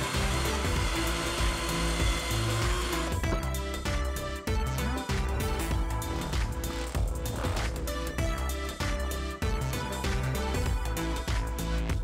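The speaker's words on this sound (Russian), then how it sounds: "Теперь нам нужно увеличить отверстие сверлом восьмеркой на длину дюбеля." A power drill with an 8 mm bit whirs steadily and loudly with a constant motor drone, its pitch wavering slightly as it bores a hole to dowel length for the full duration.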